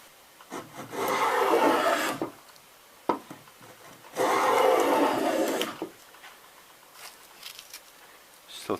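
A Stanley 220 block plane shaves wood. Two rasping strokes of about one and a half seconds each stand out close and clear, followed by quieter handling taps and light scrapes.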